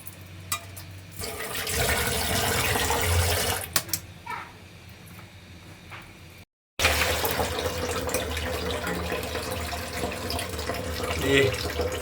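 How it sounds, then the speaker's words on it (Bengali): A filter runs in a water tank, making a continuous rushing, bubbling trickle of water that holds steady throughout apart from a brief dropout near the middle. "এটা হচ্ছে ফিল্টার আছে, পানিটা যাতে পরিষ্কার হয়, সবসময় যাতে পরিষ্কার থাকে।"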